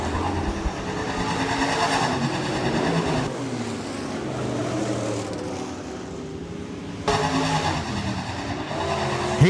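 A-modified race cars roar around the dirt oval at Rapid Speedway in a loud, continuous pack. The engine drone swells and fades as the cars pass, with a brief lull midway before the noise surges again.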